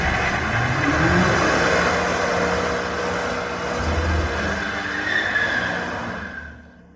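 A G99 BMW M5 Touring spinning its rear tyres under throttle, a steady engine roar with tyre squeal that holds for several seconds, then fades away at the end.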